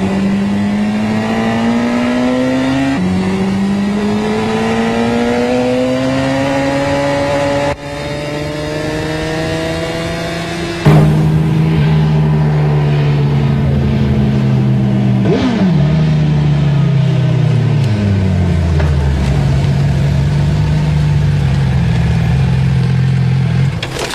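A motorcycle engine revs and pulls while the bike is ridden, its loud, close tone climbing through several gears with sharp shifts and a burst of revving, no talk over it.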